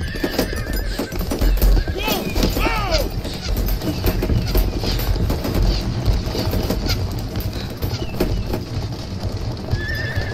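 Horses in a medieval fantasy role-playing game clip-clop steadily on both sides amid a busy, loud battle soundscape, with people talking and shouting over the hoofbeats and a horse whinnying.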